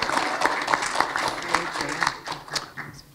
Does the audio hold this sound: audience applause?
yes